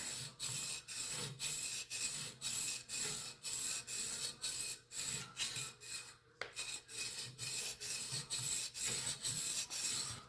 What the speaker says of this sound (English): Something relaxing about grinding away.